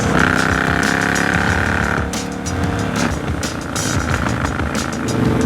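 A Stage 4 Harley-Davidson motorcycle engine roaring loud and close, its steady revving drone dropping off partway and coming back rough and rumbling.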